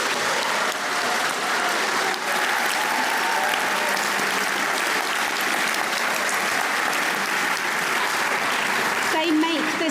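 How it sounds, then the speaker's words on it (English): Audience at an awards night applauds the judges, a loud, dense, sustained burst of clapping from a large crowd that continues evenly throughout with no gaps. "will you please show your appreciation with a round of applause for our judges"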